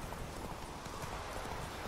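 Steady hoof clip-clop of a horse in The Witcher 3 video game, continuous rhythmic trotting under a dense, even game-sound backdrop.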